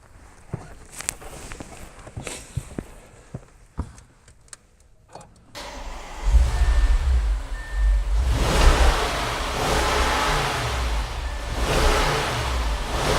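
Scattered clicks and light knocks come first, then a 2013 Audi S6 engine starts about halfway through. It catches with a low surge and settles into a steady idling rumble close by, with no talking.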